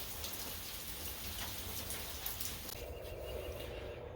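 Steady rain falls and patters on surfaces, a dense, even hiss with no other sound over it, fairly soft throughout.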